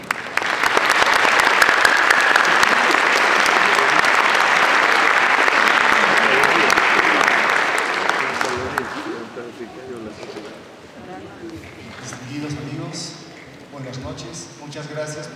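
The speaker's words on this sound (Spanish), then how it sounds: "para quien solicito un fuerte aplauso" An audience at the Arequipa Symphony Orchestra's 2018 gala concert breaks into loud, sustained applause for about eight seconds. The clapping then fades and a speaker's voice takes over.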